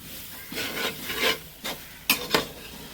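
Onions being stirred as they fry until brown, likely over a wood-fired stove, a series of close, dry scraping strokes in an uneven rhythm over a faint background sizzle.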